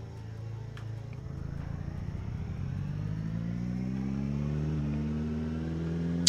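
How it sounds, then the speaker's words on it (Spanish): A car engine revs up steadily in the survival video game PermadeaZ 3, its pitch climbing and growing louder over several seconds with no talking. "Y se revoluciona más el coche y hace más ruido."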